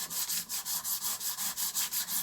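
Steady back-and-forth rasping strokes, about five per second, as a sanding stick rubs over a flat metal surface, close and fairly quiet.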